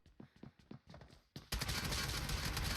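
Gunfire in the mobile game PUBG Mobile: a few separate close shots, then a dense, loud unbroken burst of rapid fire for the final seconds.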